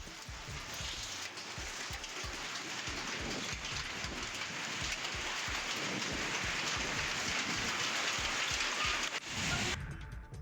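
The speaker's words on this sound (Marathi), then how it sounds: "रावेर तालुक्यामध्ये अवकाळी पावसासह गारपीट झाली आहे" Unseasonal rain mixed with hail pours steadily over farmland with banana orchards and ripe wheat and maize in Raver taluka, a dense, continuous close hiss of drops with faint patter throughout and no voices.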